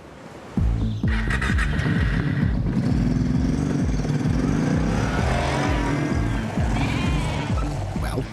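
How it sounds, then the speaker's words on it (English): A large flock of sheep on a farm bleats loudly and continuously, many overlapping calls layered over a dense, constant background of animal noise. "Sheep."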